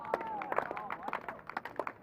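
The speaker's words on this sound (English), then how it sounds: "a bit of applause there for the Southland boys" Brief applause for the Southland boys at the 2023 National Intercentre bowls finals day, a patter of claps under a commentator's voice.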